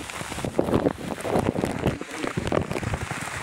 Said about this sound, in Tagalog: Pag ganito ang ulan na tuloy-tuloy malakas